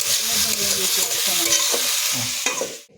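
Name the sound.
potatoes frying in oil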